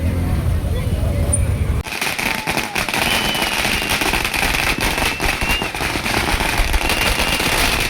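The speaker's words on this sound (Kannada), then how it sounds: "ಪಟಾಕಿ ರೋಲ್ ಕೊಡ್ತವ್ರೆ." Firecracker rolls set off at a film release celebration for the Yash movie Toxic in Mysuru, a dense continuous crackle of rapid bursts lasting throughout, loud and near, with crowd noise mixed in.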